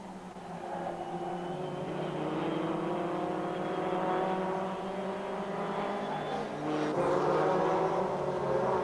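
1998 Formula Opel European race cars on a parkland circuit, several engines droning loudly and close together at high revs, pitch shifting as they pass, with a brief louder surge near the end.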